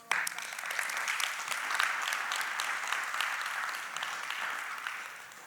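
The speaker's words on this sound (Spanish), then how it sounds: "Dale un fuerte aplauso a Jesús." A church congregation breaks into steady, full applause during a sermon, a dense wash of clapping that stays loud and even throughout without pause.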